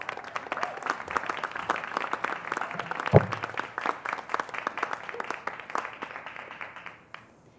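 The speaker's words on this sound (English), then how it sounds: "Give her a round of applause." Audience applause fills a summer convocation ceremony at a Salmon Arm campus as a student speaker comes up for the address, steady moderate clapping with scattered crowd sounds that fades out near the end.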